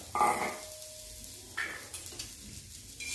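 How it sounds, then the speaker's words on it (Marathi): Green pigeon pea seeds roast on an iron tawa, giving a soft sizzle broken by a few sharp scraping stirs and metallic clinks, close and moderately loud. "लोखंडच्या ताव्यावर याला छान असं भाजून घ्यायचं"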